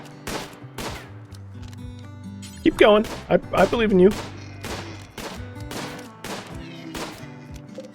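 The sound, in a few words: gunfire from a night hunt in the video game RimWorld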